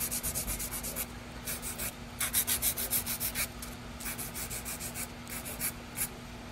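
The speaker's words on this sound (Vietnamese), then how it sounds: "Nhớ đặt cái giũa dưới này, giũa hai bên cái cạnh này nè, là hai bên cái góc này nè." A nail file rasps back and forth on stiletto-shaped acrylic nails, close and quiet, in rhythmic bursts of short scratchy strokes with brief pauses between sets.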